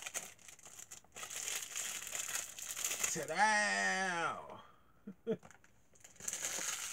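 Packaging paper from a cologne delivery crinkles and crumples close to the listener in rustling bursts, with a brief spoken exclamation in the middle and a quiet moment near the end.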